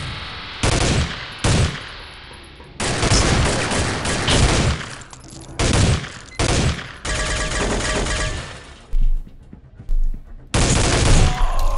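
Gunfire from the Soldier of Fortune II: Double Helix shooter game comes in loud, separate bursts of automatic fire, some short and some drawn out, with quiet gaps between them and no talking.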